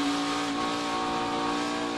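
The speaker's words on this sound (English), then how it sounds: "Listen to the throttle." A NASCAR Xfinity race car engine on track at Indianapolis, heard from onboard: a steady, loud, high-pitched roar held under throttle through a sweeping corner, with no talking.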